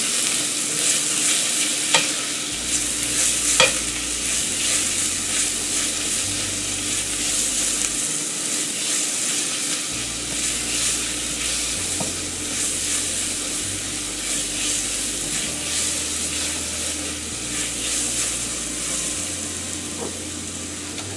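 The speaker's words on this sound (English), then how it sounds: "We're just doing a quick saute sweat on them." Onions sweating in oil in a pan for a béchamel-based sauce, a steady soft sizzle with occasional stirring scrapes throughout, close and continuous with no voices.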